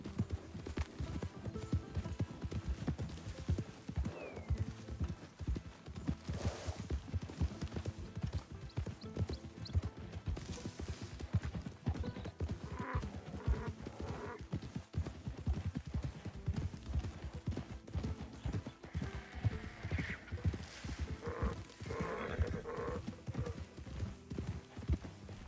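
A horse gallops across open ground in Red Dead Redemption 2, its hooves beating in a fast, steady clip-clop that carries on throughout, with a faint whinny here and there.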